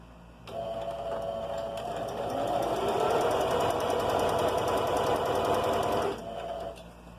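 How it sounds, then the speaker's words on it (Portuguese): A sewing machine runs a steady straight stitch along the side of a nursing pillow. The motor whirs loud and close with a rapid, even needle rhythm for about six seconds, then stops abruptly. "E a gente vai repetir o processo de costura também do outro lado."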